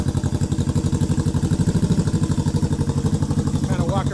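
Honda CB360 cafe racer motorcycle running nearby, a steady rhythmic idle with even, pulsing exhaust thumps and light mechanical clatter, a voice briefly audible near the end.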